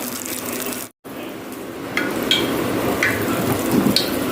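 Marinated fish pieces hit very hot oil on a tawa, raising a loud continuous sizzle after a brief silent gap, with small splattering pops on top.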